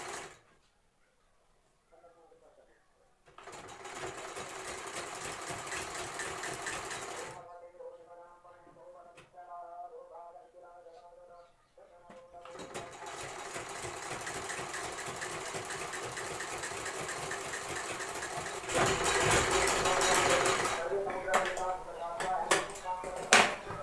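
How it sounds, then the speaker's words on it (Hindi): A sewing machine stitches a pillow cover in several steady whirring runs separated by pauses. The machine is heard close up, and a person speaks between and over the bursts of stitching. "यहाँ तक एक हम सिलाई दे देंगे।"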